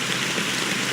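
Steady rain falls in the Honkai: Star Rail video game, a dense, even hiss of downpour with no break across one second, loud and close, with no voices over it.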